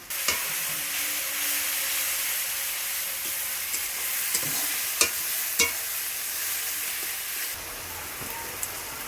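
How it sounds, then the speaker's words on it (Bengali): Ginger and garlic fry in a pan for chicken curry, giving a steady close sizzle with a few sharp stirring clicks throughout and no talking. "আদা রসুনটা দিয়ে ভালো করে কষা হবে"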